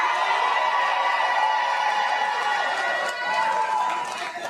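A large crowd at a Zohran Mamdani speech cheers and shouts continuously, a dense roar of many voices holding steady and close throughout.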